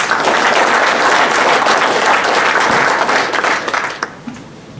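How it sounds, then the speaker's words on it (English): Audience applause at an ice fishing seminar, a steady wash of many hands clapping that holds for about four seconds, then thins and fades out toward the end. "please give Scott a round of applause"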